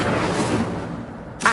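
A fire spell is cast in a video game: a loud, dense burst of roaring, crackling noise fills the moment, then thins out, and a short sharp flare cuts in at the end.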